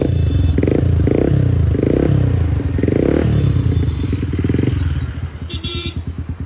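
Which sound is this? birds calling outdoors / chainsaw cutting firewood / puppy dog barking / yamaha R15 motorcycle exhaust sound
yamaha R15 motorcycle exhaust sound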